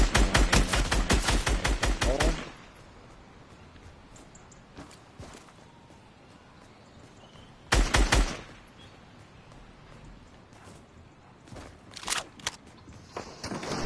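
Fortnite gunfire comes in rapid automatic bursts: a long loud volley, a short burst midway and scattered shots near the end, with quieter game ambience and faint footsteps between them.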